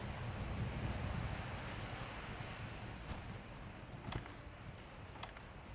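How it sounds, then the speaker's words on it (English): Steady wind gusts in Monster Hunter: World, heard as a faint broadband rush that holds for several seconds with slight swells and no talk. "Oh, it's so windy."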